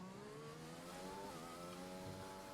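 An Arrow McLaren Formula 1 car from F1 2021 laps Bahrain under the lights, its high-pitched engine whining steadily and shifting through revs with faint tire noise and no talk.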